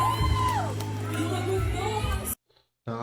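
A studio audience screams and cheers in loud, high-pitched overlapping shouts, which cut out abruptly near the end and then return for a moment.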